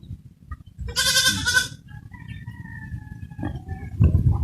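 A goat bleats loudly once, a drawn-out wavering call, followed by quieter farmyard noise with faint bird chirps and rustling in the background.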